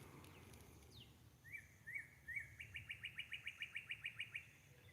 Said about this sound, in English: I love the birds.